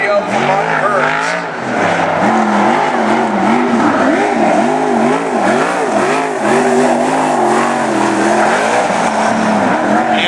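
Race car at speed on a racetrack during national qualifying, its engine note rising and falling steadily through the whole stretch, loud and continuous beneath an announcer's commentary.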